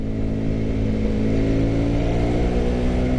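A motorcycle engine idles and revs steadily up close, a continuous loud mid-range drone holding throughout with no talk, on a morning ride toward the slopes of Merbabu.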